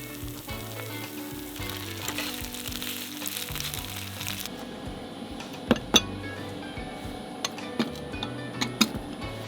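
Microwavable meal sizzling in a frying pan, a steady crackling fry that thins out midway, followed by several sharp clinks and taps of a utensil against the pan.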